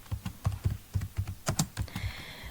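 Keys clatter on a computer keyboard while entering SQL Server query text, a quick uneven run of close, crisp clicks with brief pauses, no voices.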